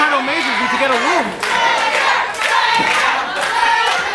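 A wrestling crowd at a UWC independent show cheers and shouts steadily in a loud, echoing hall, while a commentator talks over the noise.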